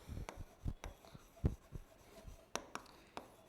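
Chalk or marker writing on a board in a classroom lesson, a series of short scratchy strokes and taps at an uneven pace, close and quiet, with no talking.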